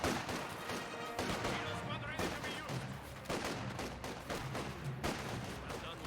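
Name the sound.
squad gunfire in Company of Heroes 2 video game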